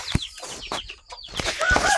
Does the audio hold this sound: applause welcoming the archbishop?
no